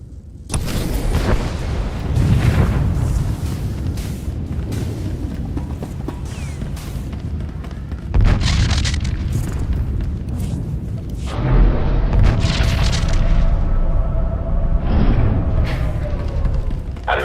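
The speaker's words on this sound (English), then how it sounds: "Enemy fire has burned through our shields." Enemy fire slamming into a starship in the space game Star Wars: The Old Republic as its shields fail. Heavy, booming impacts and bursts come in repeated waves over a constant rumble, with voices speaking in between.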